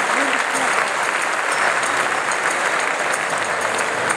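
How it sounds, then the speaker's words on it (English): A large audience gives loud, sustained, dense applause as a speaker takes the stage at an evening inspiration program, a steady roar of clapping from start to finish. "give him a warm round of applause"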